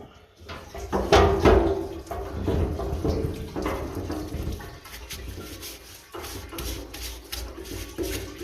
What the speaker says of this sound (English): we'll bring it over to the parts washer and give it a little wash